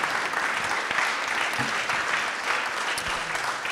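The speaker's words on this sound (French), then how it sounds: "un temps pour remercier évidemment Francis, vous pouvez l'applaudir à nouveau." Audience applause fills a presentation hall for an artificial intelligence report launch, a steady dense clapping held at an even level throughout, with no voices over it.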